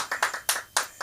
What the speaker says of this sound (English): The applause always stops like before the stage.